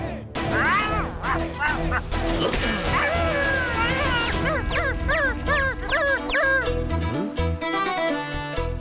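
A cartoon dog barks and yips in a Hindi children's comedy, with a run of quick, high, bouncy barks set against busy music and effects, loud throughout.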